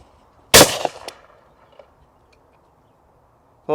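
A single loud, close shotgun blast at a teal clay pigeon cracks out and fades into a short echo, followed by quiet, with a sharp onset of another sound right at the end.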